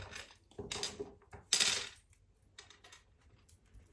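Playing cards being shuffled by hand, with bursts of crisp riffling and rattling around the one and two second marks, followed by softer intermittent shuffling, close and fairly quiet.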